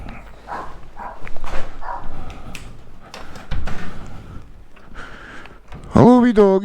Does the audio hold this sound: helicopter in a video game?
no